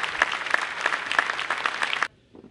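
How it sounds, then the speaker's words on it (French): An audience at the 2022 FFCC congress in Fontvieille breaks into dense, loud applause that holds steady for about two seconds, then cuts off abruptly into near silence. "Et si vous pouviez faire un tonnerre d'applaudissements, ça serait encore mieux."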